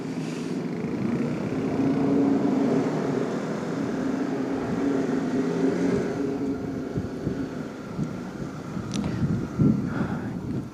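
A steady, droning Honda CB150X motorcycle engine with rattling, buzzing noise from loose rear bodywork, continuous and fairly loud throughout.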